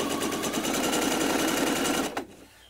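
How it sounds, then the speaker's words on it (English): A sewing machine stitches scrap fabric pieces together in a long chain: a fast, steady mechanical chatter, close and loud, running for about two seconds before stopping abruptly. "I will just sew down the long length and just keep adding pieces."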